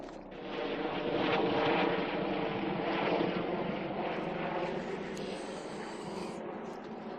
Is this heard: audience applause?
no